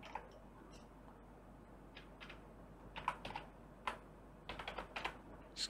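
Light typing on a computer keyboard, sparse quiet key clicks in small clusters, close but faint against a soft background hiss.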